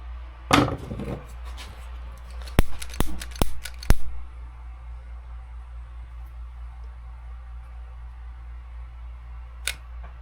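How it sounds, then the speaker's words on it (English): Scissors snip rod wrapping thread close to the blank on an old Lamiglas bait rod: a rustle, then four quick crisp snips, one more faint click at the end, near and otherwise quiet. "I'm going to cut this off down here pretty close"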